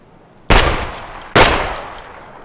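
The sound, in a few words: gunshots in the video game Escape from Tarkov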